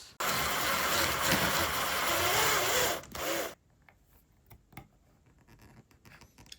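A power drill with a 9.3 mm bit bores into a guitar neck to free a stuck truss rod, a loud high whine lasting about three seconds, then cutting off, leaving faint clicks and handling noise.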